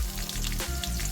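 Three medium onions fry in oil on a low flame with bay leaves, giving a brief, close, steady sizzle with soft crackles and a low hum beneath.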